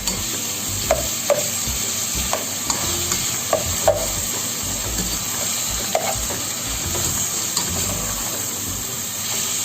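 Ginger, onion and tomato sizzle steadily in a hot pan, with a constant frying hiss broken by the sharp taps and scrapes of a spatula stirring, close and without talk.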